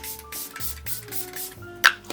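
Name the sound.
spraying Glow Recipe face mist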